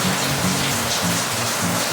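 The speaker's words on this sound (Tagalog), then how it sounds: "Ay, lakas ng ulan, no?" Heavy rain pounds down on an outdoor backyard cooking area in a dense, continuous roar, close and loud throughout the short moment.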